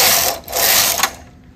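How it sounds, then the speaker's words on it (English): A domestic knitting machine's carriage sweeps across the needle bed in rows of metallic viscose yarn, giving a loud close mechanical whirring rush that drops out briefly and returns before fading. "Knit 4 rows."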